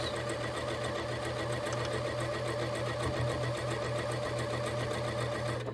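A domestic sewing machine runs steadily, stitching the borders of a quilt with a continuous, close mechanical whir and no pauses or talk.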